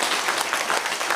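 Audience applauding at a party members' meeting, a brief burst of dense, steady clapping filling the room at moderate volume.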